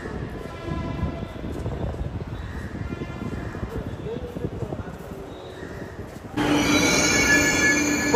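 A metro train rumbles steadily along its rails, then a loud, bright wheel squeal rises near the end and holds close by, with voices talking over the carriage noise.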